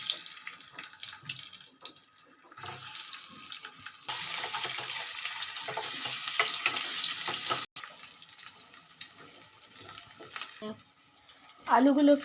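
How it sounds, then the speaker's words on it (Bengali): Potatoes fry in a pan for egg fried rice, heard as a soft-to-moderate steady sizzle that swells in the middle, with faint handling noises and a brief louder clatter at the end. "এবার আলুগুলোকে একটু ভেজে"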